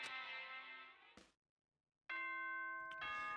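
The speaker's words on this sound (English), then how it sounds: "Ding dong, bing bong." A chiming electronic bell tone in the video game Danganronpa: Trigger Happy Havoc rings out, fades to brief silence, then a second, brighter chime sounds loud and close.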